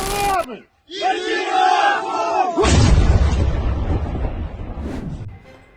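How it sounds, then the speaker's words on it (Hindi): Wartime artillery bombardment: a crowd shouts and yells, then a heavy blast roars in and rumbles on with crackling debris, fading gradually near the end. "यूक्रेन की मिलिट्री रशियन आर्मी पर लगातार दिन रात बमबारी कर रही है इस प्रकार।"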